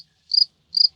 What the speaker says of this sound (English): George, cue the crickets